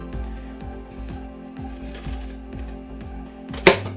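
Thick scissors cut a rough outline for a rock terrain piece, making steady, rhythmic snips roughly every half second, close up, with a sharper clack just before the end.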